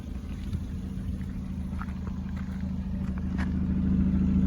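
A Ford Fiesta's Zetec engine idles with a steady low rumble, close by and growing slightly louder toward the end.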